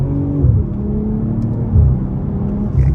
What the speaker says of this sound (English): for a 6-cylinder turbo engine, this is probably one of the best sounding ones that I have heard